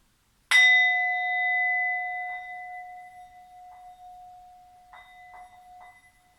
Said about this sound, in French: quand vous entendrez mon petit gong, mon petit bol tibétain